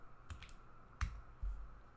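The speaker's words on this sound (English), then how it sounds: "Let's type in our username tonight." A few scattered computer keyboard keystrokes as a username is typed, faint clicks spaced irregularly over a quiet background hum, with one sharper tap near the middle.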